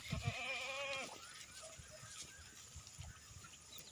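Goats and young kid goats bleat in a loud, wavering call at the start, followed by quieter farmyard rustling and scattered faint animal sounds, with no talking.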